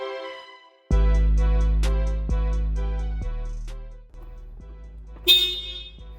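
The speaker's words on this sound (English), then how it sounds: "you don't scare the crap out of yourself by honking the horn or honking the horn a bunch" Car horn on a Honda Civic during a cheap build with badges and a roof wing being fitted, sounding in a few loud sustained blasts, the first long and the later ones shorter, with no talk over it.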